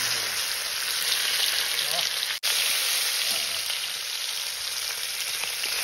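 Freshly caught fish fries in a pan outdoors on a rainy day, a steady, dense sizzle running throughout with one brief dropout midway; faint voices may sit underneath.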